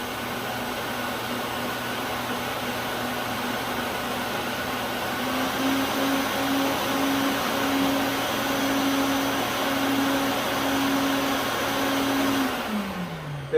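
A Lincoln Mini Fume X-tractor fume extractor runs with a steady loud whirring airflow hum and a faint pulsing tone, winding down at the end.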